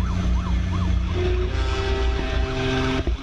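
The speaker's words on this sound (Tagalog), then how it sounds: "Pinaikutan at pinatunugan ng wangwang -wang para umalis." A loud wailing siren rises and falls in short repeated sweeps, then shifts to a steady tone, close by with engine rumble underneath.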